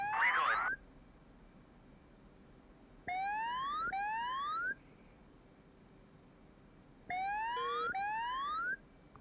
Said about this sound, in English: Sounds like an altitude alarm